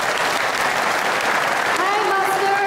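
Warm audience applause filling the room steadily and evenly throughout, with faint voices beginning to rise near the end.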